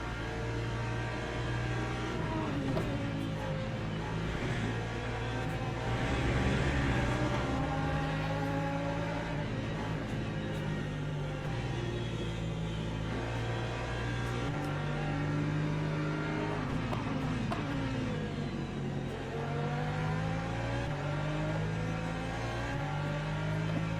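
LMP3 race cars in the racing game Le Mans Ultimate, engines droning and rising in pitch through gear changes, with another car closing in, steady and loud without speech.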